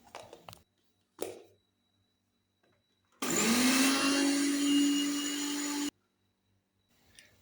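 A kitchen blender grinds half a cup of sugar into powder, roaring loudly and evenly for about three seconds before cutting off, with a few short bursts of noise beforehand and no talking.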